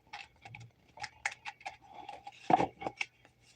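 Tarot cards being shuffled by hand, a close run of quick dry riffles and taps with one sharper snap near the end, soft and intermittent against near silence.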